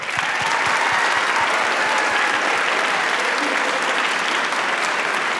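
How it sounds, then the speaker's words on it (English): A large audience at a senior awards night gives a round of applause, a loud, even wash of clapping that lasts the full five seconds with some crowd noise underneath. "we're gonna give a round of applause to Student Senate"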